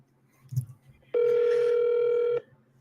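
An outgoing phone call rings out as a single steady electronic tone lasting about a second, loud and close, following a brief faint rustle.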